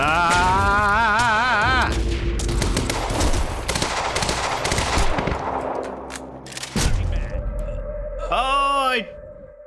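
A loud explosion and bursts of gunfire in the video game Quantum Break form a dense, sustained barrage, followed by a warbling whoosh, with a player's brief shout over the din.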